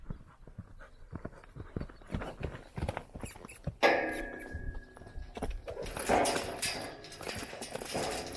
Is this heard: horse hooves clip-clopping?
yes